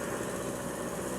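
Motorcycle engine idling on a mountain road near a cave entrance, a steady, loud, close rumble that fills the whole moment without any talking.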